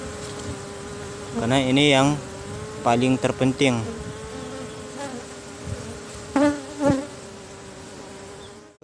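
An Apis cerana honey bee colony swarms around its queen during a hive move, a close, continuous buzzing hum with louder swells. A person speaks over it at intervals.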